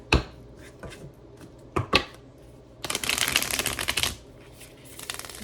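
A tarot card deck being cut and shuffled up close, with a few sharp taps and card handling sounds before a dense, riffling shuffle burst lasting about a second, then softer handling, no speech.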